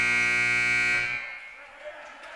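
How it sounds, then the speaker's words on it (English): At a women's basketball game, a loud, sustained buzzer blares for about a second, then cuts off, leaving quiet gym ambience behind. "was that Ari on the buzzer, or was that the other game on the buzzer?"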